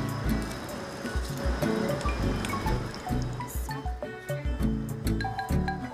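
Water pours into a pot of bone soup with barley, a close, continuous splashing and gurgling trickle with small drips and sloshes throughout.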